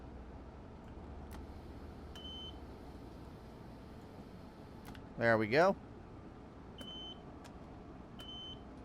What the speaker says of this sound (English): Got an alerter going on right now.